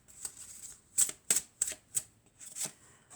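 Tarot cards being shuffled close up during a reading, a series of six or seven crisp papery slaps and flicks in an uneven rhythm, with no voice.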